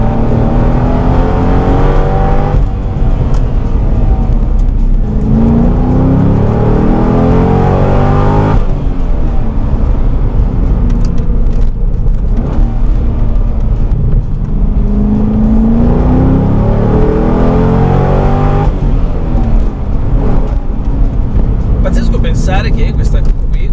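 A Chevrolet Corvette C6 with its V8 engine revving and driving close by, rising and falling harmonic sweeps repeating across the clip, loud and steady throughout.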